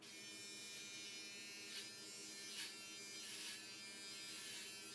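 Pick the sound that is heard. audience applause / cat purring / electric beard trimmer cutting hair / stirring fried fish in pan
electric beard trimmer cutting hair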